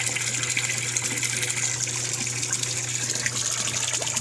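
Steady gushing water filling a washing machine during a medium wash load in an off-grid desert laundry setup, a loud continuous rushing flow with a low steady hum beneath and no talk.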